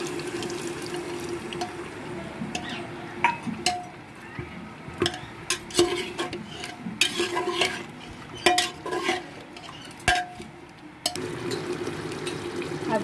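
A spoonful of ginger garlic paste being stirred in a pan for mutton korma cooked in a pressure cooker. Sharp clinks and scrapes of a utensil on metal come in irregular bursts over a faint background.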